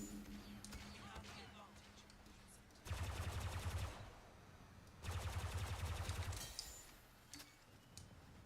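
Blaster gunfire from the Star Wars Battlefront 2 video game sounds in two loud, dense bursts of rapid shots, with quieter mechanical clicks and ambient game sounds between them.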